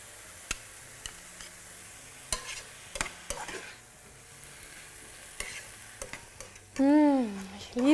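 Cherry tomatoes and garlic cloves frying in a pan, stirred with scattered scrapes and clicks over a faint sizzle, ending in a louder scraping flourish.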